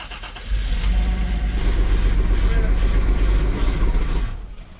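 A 1980s Toyota Supra turbo engine, its cylinders still oily, fires and runs roughly with a loud, throbbing low rumble for about four seconds, then abruptly dies into near silence.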